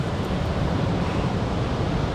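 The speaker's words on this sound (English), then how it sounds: "The waterfall's really loud, so I hope you guys can hear us." Loud waterfall at a reservoir in Maine, a steady dense broadband roar of falling water that fills the whole clip with no pauses, close and constant, no voices.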